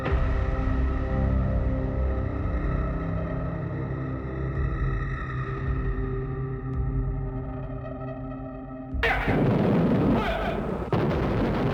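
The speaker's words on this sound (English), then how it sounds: "German guns, German bombs." German guns and bombs in a wartime scene: a long sustained droning roar, then a sudden loud, harsh burst of blasts near the end.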